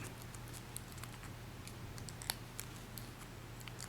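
Paper being folded into an origami crane gift box, faint crisp creases and small crinkling taps scattered irregularly over a quiet, low background hum.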